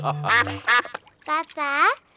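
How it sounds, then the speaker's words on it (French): Cartoon ducks at a duck pond quack in short bursts, a couple of brief calls followed by two longer nasal quacks, loud and close, alone without talk. "Papa Pig a retrouvé la mare des canards."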